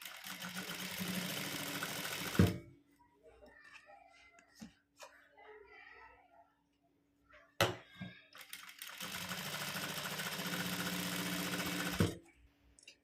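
A domestic sewing machine fitted with a 3-in-1 foot stitches piping, two loud, steady whirring runs near the start and end with a quiet gap of small handling noises between them.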